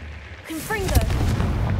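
A Confringo blasting spell goes off in the Hogwarts Legacy video game, a loud burst with quick whooshing, swooping tones that trails into a sustained rumbling roar.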